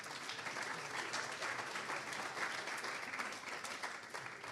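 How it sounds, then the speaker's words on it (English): A cybersecurity conference audience in Tampa, Florida applauds its CISO panelists with steady, even clapping at a fairly faint, distant level throughout. "So if you don't mind, give them another round of applause."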